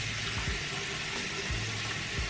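Water runs and splashes onto a beard in a bathroom before washing, a faint steady hiss with a few soft low splashes.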